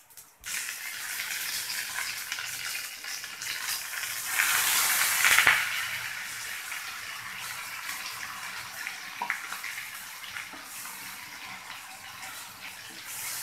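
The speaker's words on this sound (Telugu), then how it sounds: "ఇప్పుడు మనకు ఆయిల్ కొంచెం వేడయ్యాక ఇందులో మనము ముందుగా వేయించి పెట్టుకున్న మసాలాను యాడ్ చేసుకోవాలి" Masala, sesame seeds and mustard seeds sizzling in hot oil for shahi paneer curry: a steady close crackling hiss that swells loudly for a moment after the start, then settles into continuous frying with a few faint clinks.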